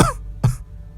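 Two harsh coughs from a man in a Hindi audio drama, one right at the start and a second about 0.4 seconds later, each short and close, with a low room hum between them.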